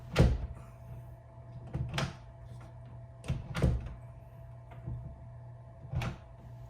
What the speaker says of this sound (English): This door needed a ton of force to open or close it